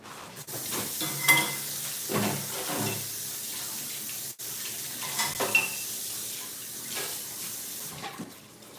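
Chicken browning in a hot pot on a stovetop, with a continuous sizzle and intermittent stirring scrapes and clatters, close and fairly loud, no talking.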